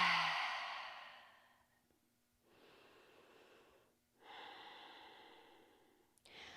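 A slow exhale during a beginner yoga session, soft and close, followed by quieter breathing in and out with long hushed gaps.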